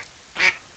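A single short quack from a duck in a video game, sharp and mid-loud over a quiet background.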